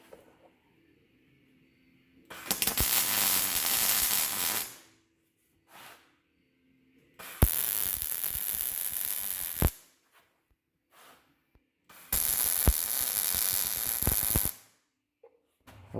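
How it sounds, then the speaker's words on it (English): MIG welding of nuts onto steel plate for a diesel Jeep front bumper: three loud, crackling hissing bursts, each about two seconds long, separated by quiet pauses with faint clicks. "I'll start the weld on the plate, get it hot, and then go up into the nut"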